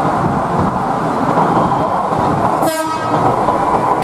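A toy high-speed train runs with a steady, loud rolling whir and a brief horn-like toot near the end, alone with no talk.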